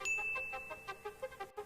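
A notification bell rings out a quick series of bright dings, one sustained tone followed by several short, evenly spaced chimes, clear and close with no talk.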